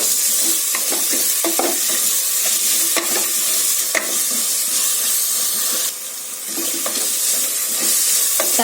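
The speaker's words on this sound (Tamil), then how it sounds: "இந்த தக்காளி கூடவே கொஞ்சமா உப்பு சேர்த்து நல்லா வதக்கிக்கலாம்" Chopped tomatoes with a little salt sautéing in a pan for vegetable biryani, a loud steady sizzle broken by frequent scraping stirs of a spatula, with a brief drop in the hiss midway.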